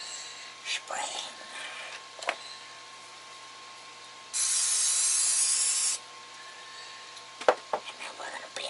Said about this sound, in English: Spraying.